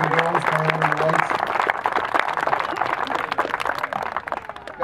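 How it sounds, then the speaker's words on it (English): Crowd applause at an outdoor park-upgrade announcement at Archer Park in Chicago: dense, steady clapping fills the whole stretch at even loudness, with a low hum underneath early on. "let's give Chairman Burke a round of applause for the boys and girls manning the lights"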